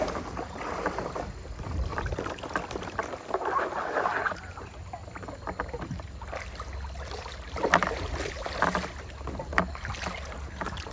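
A kayak is paddled on a river through a city, with close splashing strokes and water sloshing against the hull, mixed with rushing wind noise across the microphone, and no speech.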